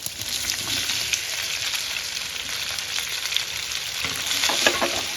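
Steamed fara being mixed into a mustard, cumin and sesame tempering in a pan, with a constant bright sizzle and a spatula scraping and tossing, loud and close with no voices.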